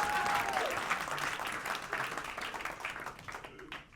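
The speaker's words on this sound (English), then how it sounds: "Round of applause for unpaid labor." An indoor audience breaks into loud applause, a dense wash of clapping that slowly fades away over a few seconds.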